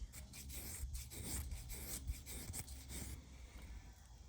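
A ferro rod is scraped to shave off a pile of shavings, producing close, repeated rasping strokes in a steady rhythm that stop shortly before the end.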